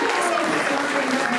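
Steady, dense applause from a group of people, loud and continuous throughout with a faint murmur of voices underneath.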